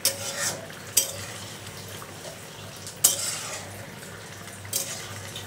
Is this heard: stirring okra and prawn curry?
yes